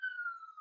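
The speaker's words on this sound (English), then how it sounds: "sorry if you hear a siren in the background," A siren from traffic on a nearby highway wails in one long, slowly falling tone, faint and distant, with no one speaking.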